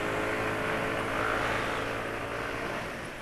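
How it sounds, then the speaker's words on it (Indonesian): A Honda PCX scooter engine running rough, a steady close-up mechanical drone with a coarse, uneven texture, holding level and easing off slightly near the end. "ini berikut PCX suara kasar ya."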